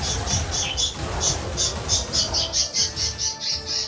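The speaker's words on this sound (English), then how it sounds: "Loud birds who make me completely forget what I was thinking." Birds chirp in the video game Wizard of Legend in a rapid, repeated, high-pitched pattern, steady and fairly loud over a dense background hum.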